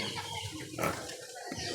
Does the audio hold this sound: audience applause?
no